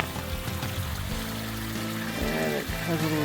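A small spring-fed stream crossing a hiking trail near Rock Creek Canyon trickles and gurgles close by, a steady watery babble with some handling noise.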